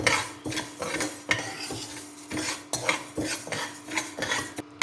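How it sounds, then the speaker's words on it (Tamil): Dry moong dal stirred in a pressure cooker, with repeated scraping clinks of a metal spoon against the pot in an uneven rhythm, close and fairly loud, and no talk. "முதல்ல இந்த பாசிப்பருப்பை நல்லா நம்ம குக்கரில் போட்டு வறுத்துடலாங்க"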